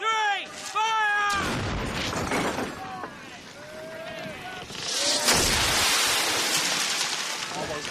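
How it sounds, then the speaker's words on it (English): Booming cannon blasts burst out amid shouting voices and whistling, followed by a rushing, crackling wash of noise. "Cannon 3! Fire!"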